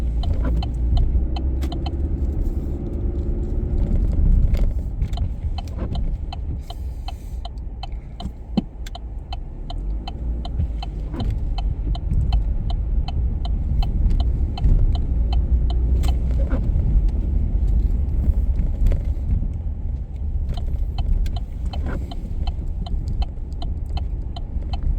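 A truck driving along a road thick with snow in Canadian winter, heard from inside as a steady low rumbling engine and road drone with recurring small clicks and rattles, no talk.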